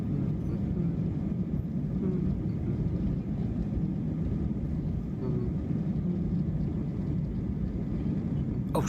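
Steady, loud broadband drone of an airplane cabin in flight, a continuous low rumble with hiss that stays even throughout, with no clear speech over it.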